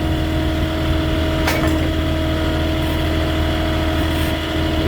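A forklift engine runs near and loud while moving brick pallets, a constant low rumble with steady mechanical drone, one brief sharp click partway through, and no talk.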